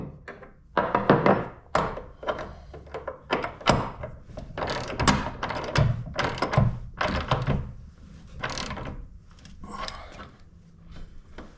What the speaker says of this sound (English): Let's put a wrench on it.